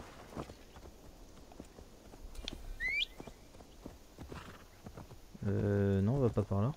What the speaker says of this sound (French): Ah, il y a mon cheval.